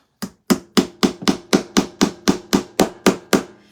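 Someone hammers into a wooden gingerbread man craft piece: about twelve sharp, close wooden knocks land in a steady, even rhythm, each followed by a short decay.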